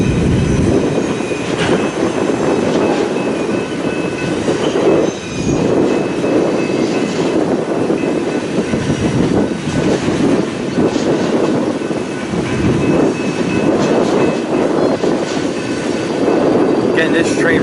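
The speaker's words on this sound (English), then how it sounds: "this train right now is running west and then it swings north" A BNSF freight train rolls steadily past nearby, a continuous loud rumble of wheels and rail clatter with faint squeals, heading west before swinging north on a north-south subdivision.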